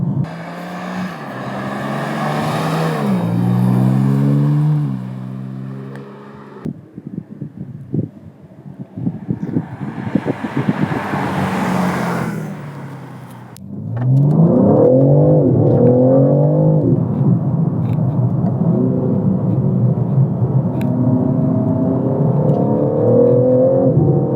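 A BMW M3 G80 Competition with its stock exhaust revs hard and drops repeatedly, the exhaust note rising and falling as it accelerates, with wind rushing over the microphone throughout.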